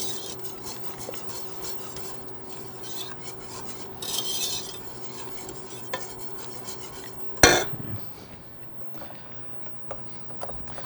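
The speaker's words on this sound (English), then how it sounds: "Make sure you keep stirring the soup at the same time." Cheddar and beer soup stirred in a pot, quiet scraping and light clinks of the spoon against the pot with one louder knock, over a faint steady hum and no talking.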